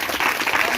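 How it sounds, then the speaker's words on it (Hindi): A church congregation at Friday prayer claps loudly in a brief, dense burst of many hands, close and filling the room. "जोरदार ताली बजाएं प्रभु की।"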